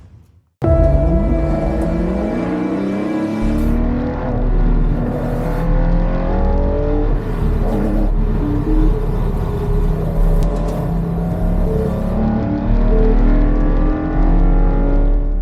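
A loud, raw, unsilenced race car engine roars to life and revs repeatedly during a noise test, pitch rising and falling, close and unmuffled throughout.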